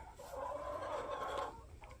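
Morning chickens clucking together in a coop, a busy overlapping chorus of low clucks and calls, fairly close and steady with no one speaking.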